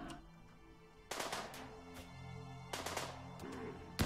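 Sharp gunshots from RimWorld colonists crack in several separate bursts, fairly faint against a quiet game-music background.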